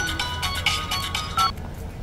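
A mobile phone rings with a repeating electronic ringtone, a series of short bright pulses in an even rhythm that stops partway through, over a faint background.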